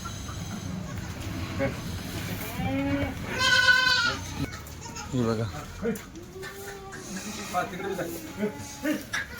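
Kathiawadi dairy goats in a shed, several of them bleating in short, loud, wavering calls at close range, with people talking around them.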